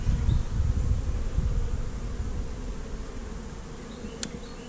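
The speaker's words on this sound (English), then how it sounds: "I got bees all the way to the top" Honey bees swarming densely inside a cutout hive in the floor of a second story, a loud, continuous close buzzing drone that fills the whole stretch with no talk.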